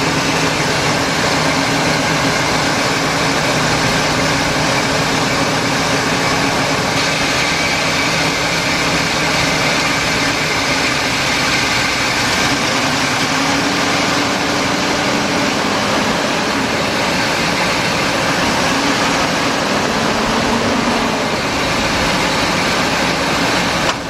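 A 2000 Ford Excursion with a 5.4 engine runs steadily in gear, a constant broadband drone with a low rumble and faint fan-like hiss, unbroken and moderately loud for the whole stretch.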